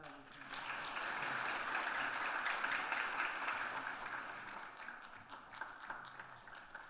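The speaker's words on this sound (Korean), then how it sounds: "자, 박수로 축하하겠습니다." Congregational applause fills a church during a worship service in celebration, a steady, dense wash of many hands clapping for several seconds before tapering slightly toward the end.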